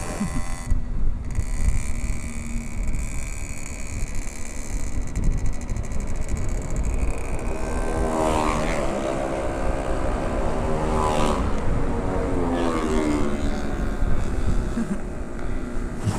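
Motorcycle engines drone steadily with wind buffeting the microphone, and a couple of motorcycles whine past at speed in rising and falling sweeps, on a group Sunday morning ride.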